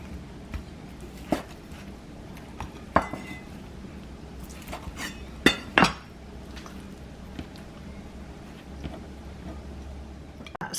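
A sharp knife slices pork belly on a board, giving scattered clicks and knocks of the blade against the surface at an uneven pace. The sounds are moderately close and there is no talk.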